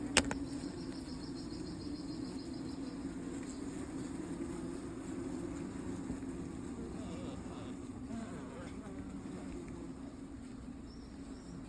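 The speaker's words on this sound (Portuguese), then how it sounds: "Muita abelha assim, precisa até fechar. Ó, as abelhas ficam atrapalhando." Stingless bees of the uruçu nordestina species swarm around an opened hive box, a steady low buzzing hum filling the air while someone speaks nearby.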